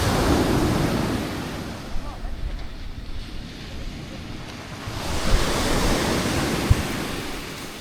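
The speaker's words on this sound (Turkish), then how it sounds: "Dalga senin saçına gelir." Ocean waves breaking on a shore at a campsite, a loud, steady wash of surf close by, with wind buffeting the microphone throughout and swelling slightly toward the end.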